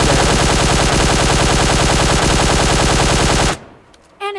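Rapid, sustained automatic gunfire from PUBG Mobile Lite, loud and continuous for several seconds, then cutting off abruptly into near silence with a brief electronic chirp.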